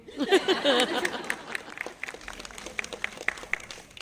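Scattered audience clapping at a family day celebration, beginning with a brief burst of voices and then thinning into sparse, irregular claps at moderate distance.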